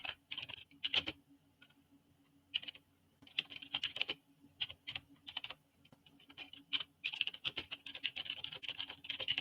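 Someone types on a computer keyboard nearby in bursts of rapid clicking, pausing briefly between runs of keystrokes, with a quiet background and no talking.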